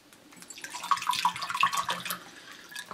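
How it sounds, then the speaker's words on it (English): Tap water runs into a mug, a splashing, rising pour that grows louder and stays close, with a few bright drip-like notes; no voices. "I'm going to fill it up, and I'm going to take a sip from it."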